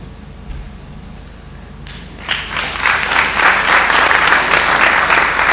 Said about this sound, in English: a round of applause for architect Ade Shokunbi once more